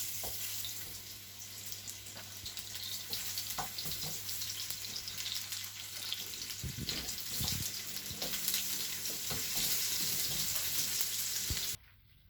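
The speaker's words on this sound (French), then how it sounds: "Je lance mes pommes et mes poires." Apples and pears frying in rendered duck fat give a steady, close, loud sizzle with occasional stirring clatters throughout, and no talking.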